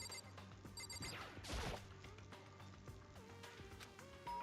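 Faint electronic ding-dong doorbell chime in Danganronpa, a couple of bright tones early on over quiet game music, followed by softer melodic beeps.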